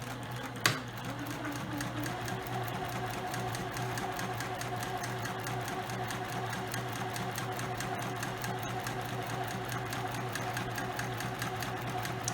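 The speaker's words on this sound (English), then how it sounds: "Lower my foot presser, back stitch," A sewing machine back stitching fabric for storage boxes runs with a steady, rapid mechanical whir and ticking, close and continuous after a brief click near the start, without speech.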